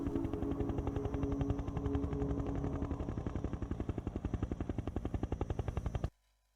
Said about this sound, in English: we're gonna be transported to Amacam headquarters now via helicopter